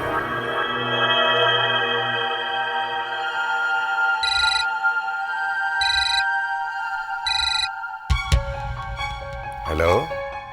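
A phone ringtone chirps in three short repeated bursts over an ongoing musical background, followed by a louder jingle near the end, as a call comes in during an indoor comedy family scene.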